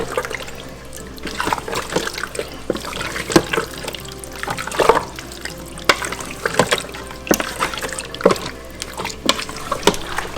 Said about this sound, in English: Now you need to give a good stir.